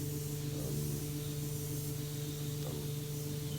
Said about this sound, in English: each coat I'm spraying wet coats